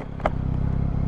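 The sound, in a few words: Yamaha MT-09 SP motorcycle engine revving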